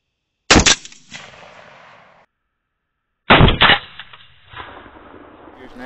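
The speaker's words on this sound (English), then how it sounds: "I shot that with a 22 cal, bro, but I felt good about my shot." Two sharp rifle shots from a .22 caliber rifle during a hog hunt, the first about half a second in and the second near three seconds later, each loud and close with a short ringing tail and faint rustle after.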